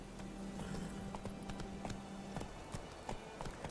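In The Witcher 3, the horse Roach gallops with a quick, rhythmic clip-clop of hooves over a dense, busy game soundscape that includes a low sustained tone.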